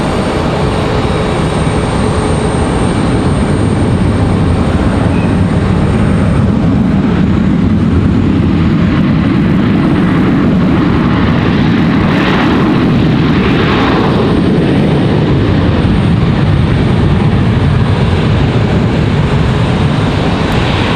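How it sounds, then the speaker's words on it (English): A jet airliner arrives at Raleigh-Durham International Airport in stormy weather with a loud, sustained engine roar. It fills the whole stretch as a dense, steady rumble and swells slightly partway through. "Very loud arrival for that."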